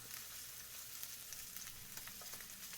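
A steak coated in garlic, pepper and salt searing in a pan, a faint steady sizzle with scattered crackles and pops.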